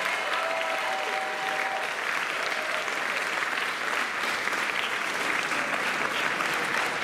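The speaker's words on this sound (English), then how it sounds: "So please give them a round of applause also." An audience at the Kansas City Fringe Festival applauds sponsors and volunteers with steady, dense clapping that fills the room evenly for several seconds.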